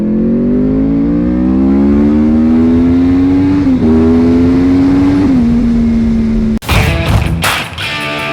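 A motorcycle engine hums steadily while riding, its pitch rising slowly and dipping slightly through gear changes. It ends abruptly in louder wind buffeting and rustle.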